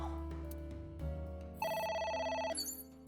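A telephone rings in the video game AI: The Somnium Files, a steady electronic trill that starts partway through and holds loud over a low game soundtrack before ending.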